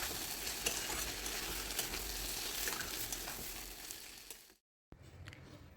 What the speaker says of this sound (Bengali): আলুর সাথে মশলাটা আরও 2 মিনিট মতো কষে নিতে হবে।